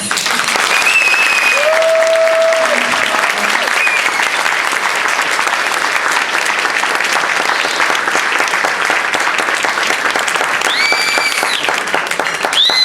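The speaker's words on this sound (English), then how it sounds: "Can we give her a round of applause?" An audience at a Woman of the Year awards ceremony gives long, steady, dense applause, with scattered cheers and brief voices rising above the clapping.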